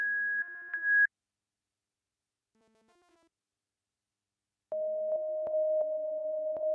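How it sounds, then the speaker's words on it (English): A Microkorg synthesizer sounds a near-pure sine tone through a resonant low-pass filter. One clean high note comes first, then near-silence, then a steadier lower tone with slight pitch wobble, clear and close. "You get a sort of a very pure sine wave almost tone"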